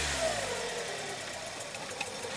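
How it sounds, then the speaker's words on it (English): A Hyundai Elantra engine with a transmission that won't shift and severe power loss runs steadily at raised RPM, a low continuous drone with a faint rising tone early on and no talk over it. "I'm gonna increase the engine RPMs one more time."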